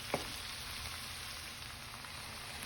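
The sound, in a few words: stir frying jerk chicken ingredients in a pan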